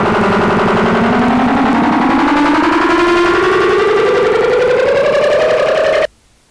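A painting turned into sound by encoding the image as audio: a dense, synthetic warble with rising tones and a rapid pulsing texture, loud and continuous for about six seconds before cutting off abruptly.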